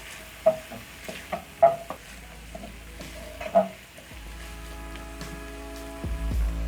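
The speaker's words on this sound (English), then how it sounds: "I'm going to be adding in half a teaspoon of tomato paste. Stir in." Tomato paste is stirred into pork stew in a pot: a soft simmer with several distinct knocks and scrapes of a spoon against the pot, then quieter bubbling with a low hum.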